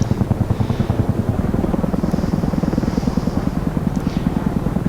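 A CH-47 Chinook tandem-rotor helicopter banking in the DCS World flight simulator, heard from close by with rotor blades pulsing in a fast, steady, loud beat over a low engine rumble.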